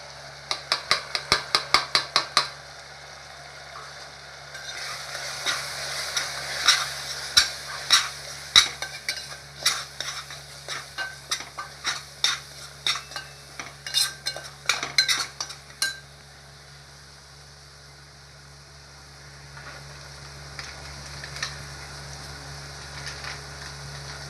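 Chili, coriander and turmeric powders roast in a pan, stirred with a metal utensil in a burst of clinks and scrapes over a faint sizzle, then fading to quiet.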